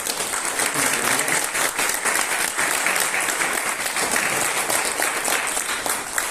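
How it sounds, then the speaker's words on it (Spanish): Sustained, even applause from an audience at the opening of a course on psychoactive substance use, honouring teacher Pablo Vázquez; dense clapping holds steady and fairly loud for about six seconds with no voices over it. "os pido un aplauso para el maestro Pablo Vázquez."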